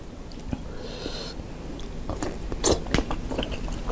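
Crunchy close-up bites and chewing while eating spicy Thai khanom jeen salad (tam khanom jeen) with pickled fermented sauce, several irregular crisp crunches over a low steady background, with no talking.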